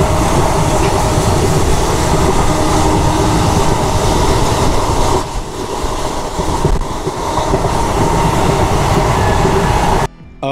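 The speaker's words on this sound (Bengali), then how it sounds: "খুব দ্রুত গতিতে চলছে এখন ট্রেন" A passenger train in India, on the Malda to Kharagpur run, races along at high speed with a loud, steady rumble and rhythmic wheel clatter close by that lasts throughout, dipping briefly just before the end.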